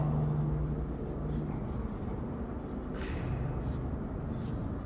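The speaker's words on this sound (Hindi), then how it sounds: "ये जो मैंने अभी बोला है ना उसको लिखूंगा मैं सब कुछ।" Chalk or marker strokes on a board during a lecture, a faint scratching that comes and goes over steady room noise.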